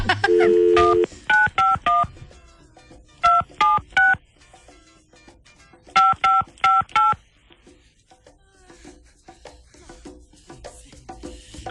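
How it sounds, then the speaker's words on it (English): Telephone number dialed on keypad DTMF tones: an opening long tone, then quick beeps in clusters of three or four with short pauses between groups, loud and close, over faint background noise. "No talking during the dialing."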